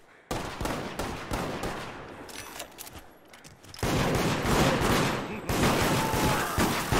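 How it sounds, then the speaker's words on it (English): Gunfire during a round of the game Deceit, dense bursts of loud shots in rapid succession with a brief lull midway, then heavier sustained firing, with people talking over it. "He's got a shotgun, be careful."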